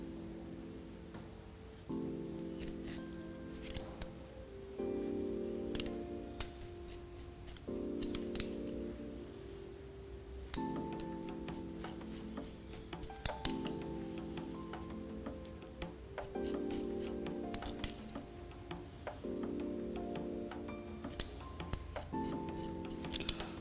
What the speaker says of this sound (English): all we do is use a razor and then just cut in front of your fingers